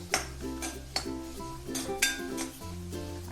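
Onions being stirred and sautéed in a pan with a little salt, with metal spoon scrapes and clinks against the pan over a soft sizzle, close and steady with sharper knocks at intervals.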